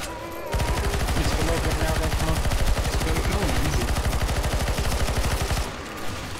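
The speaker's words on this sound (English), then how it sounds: "Keep shooting, keep shooting." Sustained automatic gunfire in the video game CS:GO Zombie Escape, loud and continuous for about five seconds as many weapons fire together, with faint talk mixed underneath.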